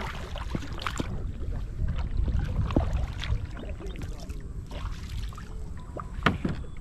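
A small boat moving on water, with steady splashing and lapping against the hull over a continuous wind-blown outdoor background.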